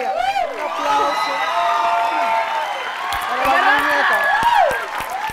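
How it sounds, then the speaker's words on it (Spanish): A studio audience on a talk show applauds with whoops and cheering, a lively crowd sound that stays full throughout with scattered bright shouts. "Un aplauso."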